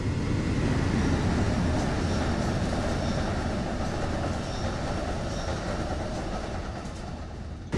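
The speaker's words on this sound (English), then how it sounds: "enjoy the view of our train passing by" A passenger train rumbles past on the Northeast Corridor in New York in Train Sim World, a loud, dense roar with faint clickety-clack that slowly fades as it moves away.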